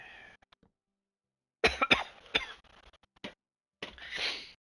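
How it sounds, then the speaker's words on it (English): A few sharp coughs close by, in two bursts separated by a short pause, then a longer rougher cough at the end. "The sneezing and the coughing"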